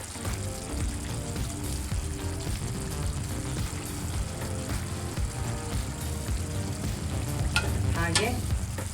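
Eggs go into a frying Naati-style egg curry masala and get stirred, a steady close sizzle with scraping spoon strokes throughout and a few sharper clinks near the end.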